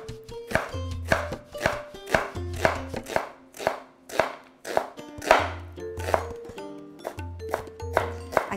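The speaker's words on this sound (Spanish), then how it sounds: "Vamos a filetear una cebolla muy delgadita." A kitchen knife thinly slices an onion on a cutting board in a quick, even rhythm of crisp chopping taps, with tonal background music underneath.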